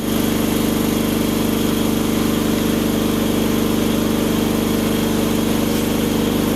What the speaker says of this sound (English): sorry about the compressor. No way I can get around that.